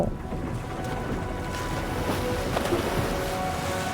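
A boat sails across open sea in the video game Genshin Impact, with a soft, steady wash of water and wind that continues evenly and quietly without any voices.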